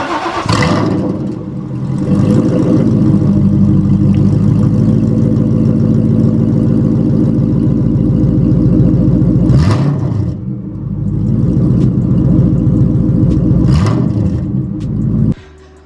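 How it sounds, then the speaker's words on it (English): A Ford Mustang with one muffler and an otherwise straight-piped exhaust cold-starts loudly, then holds a rough, droning idle that dips briefly before rising again and cutting off. "here's a cold start with only one muffler and one, you know, basically straight piped"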